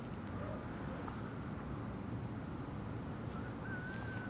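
Steady southwesterly wind blowing outdoors beside a fishing lake, a continuous low rush that stays even and fills the whole stretch, with no speech over it.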